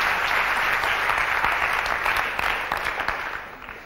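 Audience applause for workshop participants, a continuous patter of many hands that holds level for a few seconds and then tapers off, with no talking.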